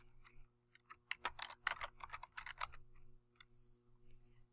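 Quick bursts of keystrokes clatter on a computer keyboard, a cluster of rapid clicks in the middle framed by a few isolated taps, close and fairly quiet.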